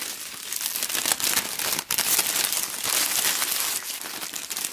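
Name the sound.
plastic wrap being crinkled and gathered on an Easter basket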